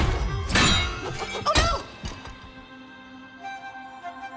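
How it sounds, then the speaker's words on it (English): In Dragon Age: The Veilguard, several loud objects shatter and crash in quick succession at close range, with glassy breaking and heavy thunks. Debris then clatters and settles, and a voice exclaims once. "Just breaking things."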